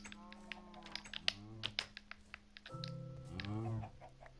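Chickens in the video game Minecraft cluck in a few short, bright calls scattered over several seconds, fairly quiet with small gaps between each cluck.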